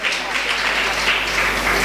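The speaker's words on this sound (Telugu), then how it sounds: "చప్పట్లు కొట్టు నా ప్రియమైన దేవుని బిడ్డ" A church congregation claps through Sunday worship, producing a dense, steady wash of hand claps throughout with voices mixed in.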